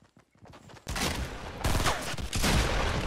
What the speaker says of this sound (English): I thought he was shooting at me.